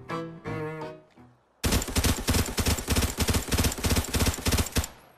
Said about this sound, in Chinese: 我是一直长按开火键啊 ，M16 能自动三连发开火，而且射速好像还挺快